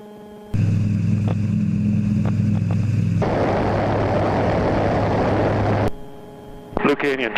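Light sport aircraft taking off from a short runway, its engine holding a loud steady drone that turns into a broad roar, then cuts away to quieter sound with a brief burst of talk at the end.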